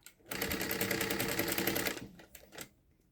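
A sewing machine stitching fabric for a baby activity cube: a close, fast rhythmic whir of needle strokes for about a second and a half, then stopping, followed by a couple of faint clicks.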